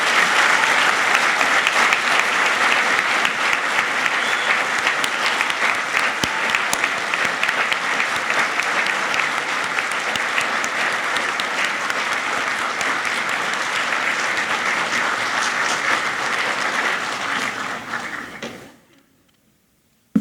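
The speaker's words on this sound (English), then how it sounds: "giving them a hearty round of applause" Large graduation ceremony audience giving a long, loud, steady round of applause for parents and loved ones, dense clapping sustained for about eighteen seconds before fading out abruptly.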